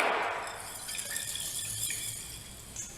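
A glass jar of sprouting seeds with water inside is shaken by hand under a running tap, giving a close sloshing swirl with light glassy clinks over the steady hiss of the tap.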